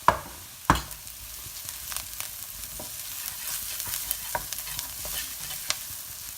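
Turmeric, chili and coriander powder sizzle in a pan with onion and cumin, a soft steady fry broken by sharp scrapes and knocks of a stirring spoon.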